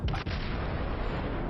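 Heavy naval gunfire in World of Warships, a loud booming blast at the start that rolls into a long, dense low rumble filling the rest of the moment.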